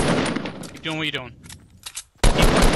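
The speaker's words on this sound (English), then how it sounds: "Keep shooting. Keep shooting." Rapid gunfire from a battle royale video game rattles out loudly in a dense burst, breaks off into a brief tonal sound and quieter clicks, then resumes in a second heavy burst at the end.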